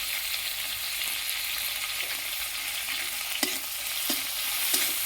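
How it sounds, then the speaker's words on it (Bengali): Prawns frying in a pan with black cumin, onion, turmeric and spices give a steady, dense sizzle throughout, with a few sharp scrapes and taps of stirring near the end. "চিংড়ি মাছগুলো হালকা একটু ভেজে নেব"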